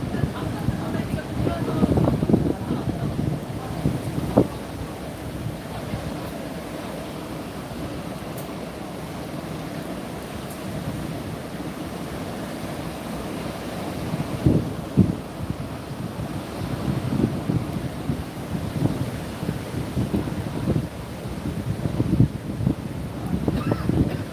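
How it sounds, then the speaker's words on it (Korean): Heavy surf and gusting wind off the coast near Seogwipo as Typhoon Hinnamor approaches a small island, a steady roar of crashing waves and buffeting wind noise filling the whole stretch with surges at intervals. "태풍이 오기 직전 모습으로 파도가 섬을 삼킬 듯 더 커져만 가고 있습니다."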